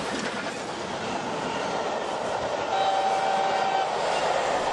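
A model railway train runs at the Burnley start of the 2016 modelling year, a steady close rumble of wheels over track with a thin, sustained whistle-like tone rising partway through.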